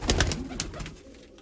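Pigeons kept in a loft coo in low, rounded murmurs, a few soft calls close by over a steady background hum, with no talking.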